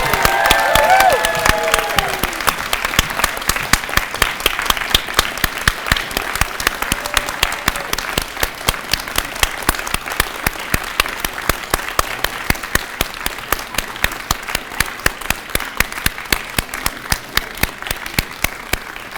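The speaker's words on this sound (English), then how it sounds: "Let's give a warm round of applause for the graduating class of fall 2023." Sustained applause from a large audience at a registered nursing graduation celebration for the fall 2023 class, dense rapid clapping that stays loud for nearly twenty seconds, with a brief voice near the start.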